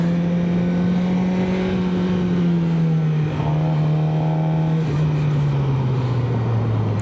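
A stock Suzuki GSX-R 600 motorcycle idles loud and close, its engine note swelling slightly in one rev before dropping back to a steady drone, with no talking.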